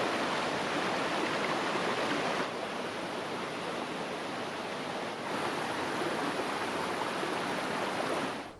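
A spring-fed river at Te Waikoropupū near Abel Tasman, New Zealand, flows with a steady, full rushing wash, continuous and close, with no voices over it.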